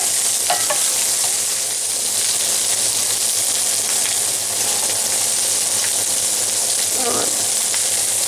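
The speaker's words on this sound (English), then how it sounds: "I want to be sure that every part of this is properly browned." Sausages, some large, brown in a Stargazer cast iron skillet, a loud steady sizzle and crackle with occasional spatula scrapes and pops running throughout.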